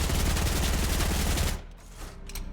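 Rapid SMG fire in the Fortnite battle royale game, a dense sustained burst of shots for about a second and a half, then stopping abruptly into quieter background game sound.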